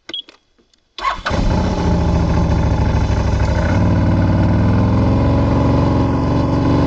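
A vehicle engine starts with a brief crank after a few small knocks, then settles into a loud, steady running drone as the car drives along a rural track, close and continuous with no talk over it.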